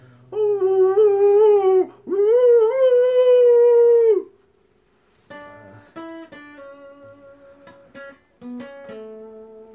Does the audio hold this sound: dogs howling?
yes